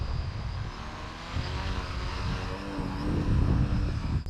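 A VTOL model aircraft hovering and circling over a field on a windy day, its propellers giving a steady, loud whirring drone throughout with a rising swell toward the end.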